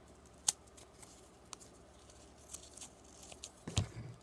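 Scissors cut craft material for a small cluster: a few quiet, sparse snips and rustles, one sharper snip near the start and a louder crunchy cut near the end, in an otherwise quiet room.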